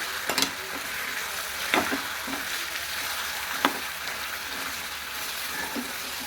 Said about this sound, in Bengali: আমি মাটনের মধ্যে দিয়ে দেবো। দিয়ে এইভাবে ভালো করে কষতে হবে।